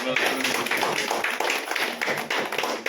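An audience at a political gathering claps for the speaker in a dense, continuous patter of many hands, with a voice underneath at times.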